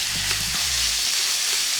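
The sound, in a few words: ground pork sizzling in hot oil in pan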